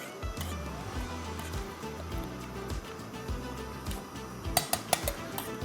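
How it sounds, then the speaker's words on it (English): Ramen noodles being stirred in a camp pot outdoors: soft, steady liquid churning with scattered metallic clinks and scrapes of a utensil against the pot, plus a few sharper taps near the end. "So I'm just gonna give that a nice stir."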